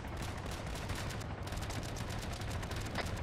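Heavy battlefield gunfire in Arma 3 during a compound-clearing patrol: continuous overlapping bursts and shots, rattling steadily at a fairly distant, even level with no voices.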